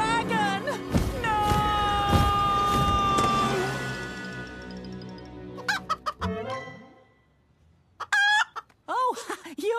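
A cartoon chicken in Thomas & Friends clucks and squawks in short, bright bursts after swelling music, with animated characters talking around it.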